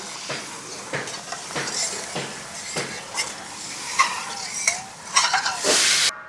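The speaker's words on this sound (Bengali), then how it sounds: "ভেজে নিলাম টমেটোর সাথে দিয়ে এবার আমরা জল দিয়ে দেবো এক বাটি" A bowl of water goes into a pan of frying tomatoes and spices for a pomfret curry, with scattered sizzling bursts, utensil scrapes and clinks, and a sharp hiss of steam near the end.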